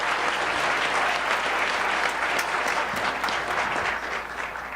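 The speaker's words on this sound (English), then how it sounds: "Big round of applause for Angela and the work that she's doing." Steady, dense applause from a large audience at an awards event for community college excellence, loud and sustained throughout before easing slightly near the end.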